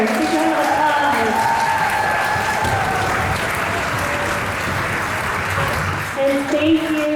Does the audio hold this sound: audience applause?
yes